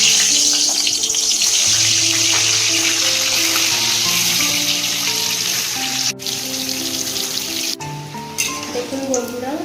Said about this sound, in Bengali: এবার ওই তেলেই আমরা আলুগুলোকে একটু লাল লাল করে ভেজে নিচ্ছি